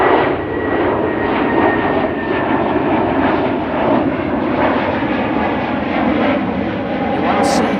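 Jet airliner at Amsterdam Schiphol Airport: a loud, steady engine roar that holds without a break, broad and rumbling, close at hand.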